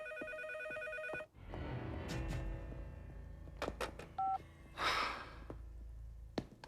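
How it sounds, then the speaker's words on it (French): Telephone ringing indoors amid a French drama scene, with a short electronic ring tone over a faint background of soft music and room noise, no talk. "Mais réponds au téléphone."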